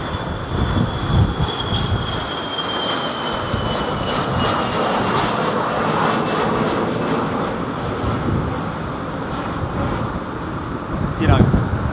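A fixed-wing airliner roars past at London Heathrow Airport, with a loud, broad jet rumble and a whining tone drifting in pitch, plus gusts of wind buffeting the microphone.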